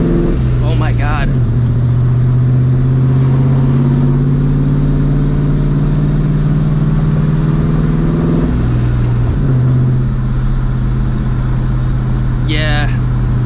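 A supercharged New Edge Ford Mustang GT with a Vortech V1 Ti-Trim blower drones loudly and steadily while driving, its pitch dipping briefly at gear changes near the start and again partway through.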